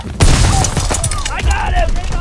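Gunfire in the World War II shooter Call of Duty WWII, a loud close shot followed by chaotic battlefield booms and crackling under voices calling out.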